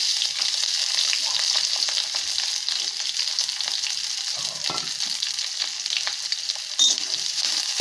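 Slit chillies with chopped onion and garlic fry in hot oil tempered with nigella seeds, giving a steady, close, continuous sizzle with occasional stirring scrapes and no talking.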